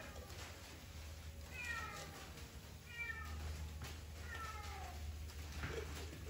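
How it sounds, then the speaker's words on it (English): Unhappy cat meowing from another room in a workshop during a tractor rebuild, several drawn-out plaintive meows spaced a second or two apart over a low steady hum. "My cat, you can probably hear, is not happy that I booted him out."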